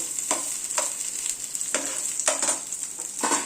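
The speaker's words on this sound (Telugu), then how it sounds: "అల్లం పచ్చిమిర్చి, జింజర్, గ్రీన్ చిల్లీ, టామరిన్ వేయించాలి." Ginger, green chillies and tamarind fry in a pan with a bright, continuous sizzle, punctuated by about six rhythmic stirring scrapes, close and fairly loud with no talking.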